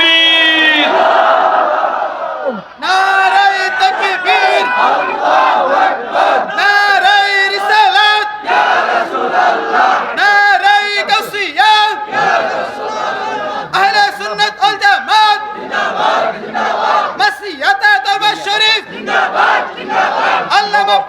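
A crowd at a Bangla religious waz sermon by a mufti shouts takbir in loud, repeated collective calls, rising in waves over and around a preacher's amplified voice throughout.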